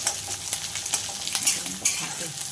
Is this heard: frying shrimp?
yes